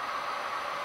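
An HO scale model BNSF freight train with about 37 cars runs along the track, giving a steady, even whirring rumble with hiss and no break across the short moment.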